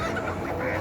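Ducks at a busy poultry market in Dammam, Saudi Arabia give off a steady, close chorus of nasal honks and quacks over market background noise.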